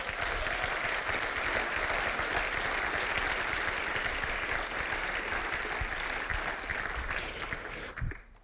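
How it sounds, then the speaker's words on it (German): Sustained audience applause at a Swiss environmental school film festival, a dense, loud wash of clapping from a large crowd that fades out near the end. "Und das ist dann jetzt den ersten Applaus sicher wert."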